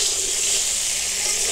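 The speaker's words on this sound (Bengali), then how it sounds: "মিডিয়াম আঁচে ভালো করে সোনালি কালার করে ভেজে নেব" Salted cauliflower pieces fry in oil over medium heat, giving an even, continuous sizzling hiss at moderate loudness for the whole short stretch.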